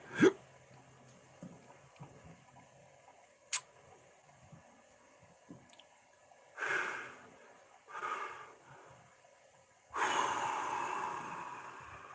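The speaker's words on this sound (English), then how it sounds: "there's them hiccups again" Sharp, isolated hiccups break out several times at uneven intervals, each a brief, fairly close burst, with breathy noises between them against a quiet background.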